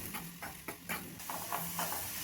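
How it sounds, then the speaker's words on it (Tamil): Rice flour roasting in a wok-style pan on a stovetop, with a soft, faint hiss and a few light scraping strokes from stirring. "இன்னொரு அடுப்பில் ஒரு வடைச்சட்டி வச்சு 1 கப் அரிசி மாவை லேசாக வறுத்துக்கலாம்."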